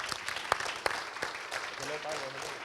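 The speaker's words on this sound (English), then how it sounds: "Why don't we give them a big round of applause" A conference audience applauds, a short, scattered burst of clapping that thins out quickly and gives way to low room murmur.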